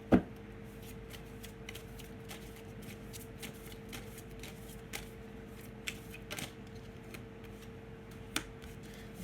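Tarot cards being shuffled close up, soft papery riffles and taps repeating through a quiet room with a faint steady hum and a few sharper knocks.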